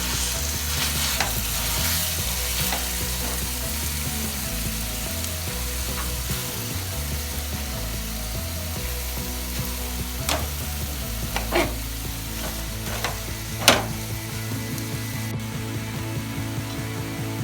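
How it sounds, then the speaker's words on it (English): Boiled potatoes and carrots mashed in a pan for Mumbai-style pav bhaji: rhythmic scraping and pressing strokes of a masher over a low frying sizzle, with sharper clacks toward the end. "add boiled potatoes and start mashing them also"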